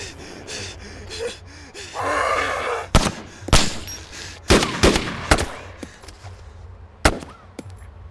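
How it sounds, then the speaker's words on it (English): Sharp, loud revolver shots in DayZ, about six separate cracks spaced irregularly over several seconds, with gasping breaths and quieter rustling between them. "I'm using my revolver now"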